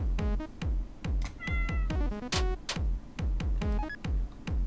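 Cartoon cats meow over and over in a video game minigame, a rapid series of short, loud, tonal mews that come one after another with brief gaps, heard alone without talk.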